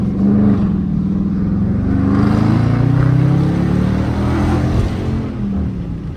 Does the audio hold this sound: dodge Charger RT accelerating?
yes